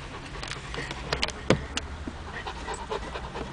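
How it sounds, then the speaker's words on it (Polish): A dog panting close by in a home, quick rhythmic breaths with sharp clicks and small knocks scattered through, no speech. "Szczeka piesek?"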